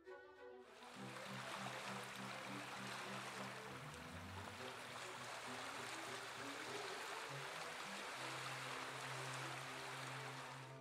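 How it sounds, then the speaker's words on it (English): A flowing stream of water gives a steady, continuous rushing wash throughout, with a low sustained hum underneath and no voices. "Ace, I hear water."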